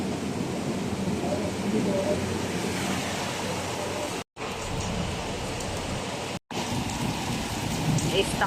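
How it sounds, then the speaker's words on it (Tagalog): Heavy rain pours down in Abu Dhabi in a dense, constant hiss, loud and close, broken by two brief cuts in the sound. "Lakas ng ulan."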